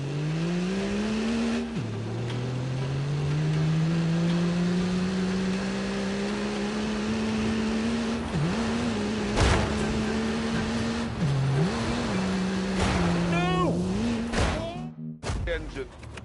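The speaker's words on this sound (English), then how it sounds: "Engine." Car engine in The Grand Tour racing game on PS4, revving and holding a droning tone with pitch dips as gears shift, loud and steady, with brief abrupt cuts near the end.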